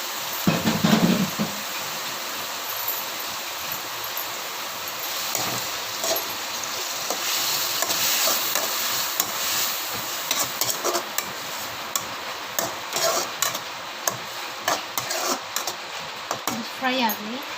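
Spiced paste frying in a pan for a squid chilli dish gives a steady close hiss and sizzle, with stirring scrapes and utensil clinks running through the whole stretch.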